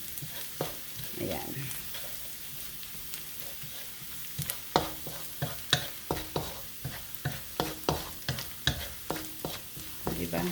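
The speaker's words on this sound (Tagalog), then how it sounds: "Hanggang mag golden brown tong ano natin, bawang." Garlic sizzles steadily in a hot frying pan, browning to a slight gold, while a utensil stirs it with a run of quick, rhythmic scraping clacks that grow more regular; a single brief word is spoken.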